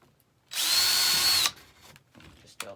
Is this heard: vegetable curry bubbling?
no